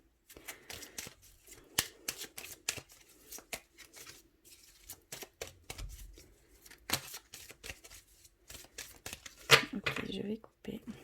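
A deck of oracle cards being shuffled in short, crisp riffling bursts and soft slaps, close and fairly quiet, with a denser riffle near the end.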